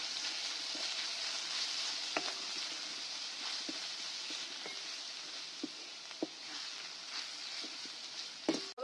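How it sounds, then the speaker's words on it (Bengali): Spiced chicken with tomato masala and turmeric sizzles gently in a pan under a soft constant hiss, with scattered clicks and scrapes of a spoon stirring, close and fairly quiet. "কালারের জন্য সামান্য পরিমাণ হলুদ দিয়ে নিচ্ছি। এবার ভালো করে নেড়ে দিচ্ছি।"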